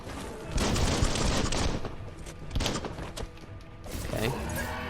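Bursts of gunfire from shooting in the video game Biomutant, loud rapid volleys in several clusters separated by short pauses, with a trailing thud near the end.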